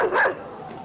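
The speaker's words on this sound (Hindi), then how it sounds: "चारों तरफ से कुत्ते।" A single short dog bark, sharp and fairly close, followed by a fading tail of quieter ambience.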